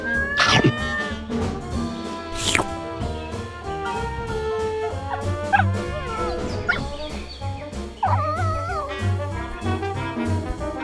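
A cat meows and caterwauls repeatedly outdoors on a farm, loud drawn-out yowls over a busy background of other animal noises.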